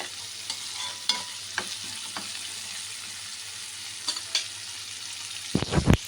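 Ingredients for egg fried rice frying in a pan give a steady sizzle, with scattered clicks and scrapes from stirring and a louder clatter at the end.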